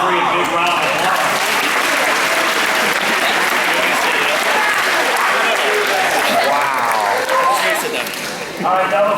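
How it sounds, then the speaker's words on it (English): An audience at a youth event magic show claps loudly and continuously in a big round of applause, with voices mixed into the crowd noise throughout. "let's give them all 3 a big round of applause"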